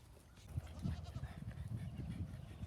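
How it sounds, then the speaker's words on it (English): A milk goat bleats repeatedly at close range on a miniature horse farm, a steady run of low, wavering calls with no talk over them. "It's a milk goat."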